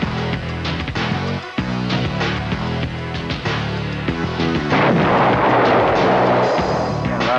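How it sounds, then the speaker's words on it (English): High-drag bombs dropped from jet fighters over the Desert Storm battlefield burst in a dense, loud run of booms, thick with rumble and a hissing blast wash that grows near the end. "Another one. Multiple launch. Some high drag weapons coming off."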